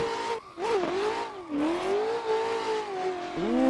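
Race car engine in a racing sim held at full throttle, a loud sustained whine that climbs and dips with shifts and revs, with brief tire squeal and no talking.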